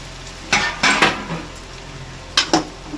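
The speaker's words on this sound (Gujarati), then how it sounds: "હવે આપણે આને હેઠ ઉપર કરી નાખીએ આ ટાઈપ હલાવી નાખવાનું" A spatula turns thin patra slices, colocasia-leaf rolls, in a pan of tempering. A few sharp metallic scrapes and clatters come in two quick clusters over a faint background sizzle.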